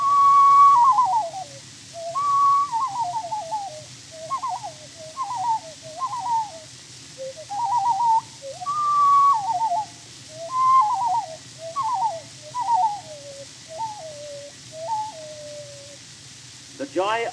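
A nature singer whistles an imitation of a loon's tremulous, sobbing lake call in a 1915 recording: about a dozen wavering, falling phrases in steady succession, clear and close over faint background hiss.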